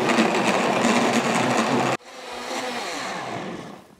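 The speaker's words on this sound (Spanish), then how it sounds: "De la sopita le vamos a estar poniendo aquí para licuar." A kitchen blender whirs at full speed through fish broth soup with tomatoes and garlic, a loud, steady close-up motor drone that cuts off abruptly midway and then resumes at a lower, softer pitch.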